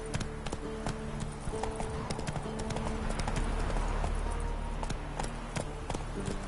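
A horse's hooves clip-clop in a quick, steady rhythm as it is ridden in the video game The Witcher. The hoofbeats run continuously and fairly loud over a low ambient rumble.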